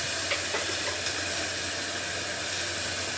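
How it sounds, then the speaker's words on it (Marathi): Onion and tomato with a spoonful of salt sautéing in a pan, giving a steady close sizzle and hiss with faint occasional stirring scrapes throughout. "आणि आता त्यासोबतच टमाटा पण घालते. दोन्ही पण पटकन चांगलं परतून जाईल."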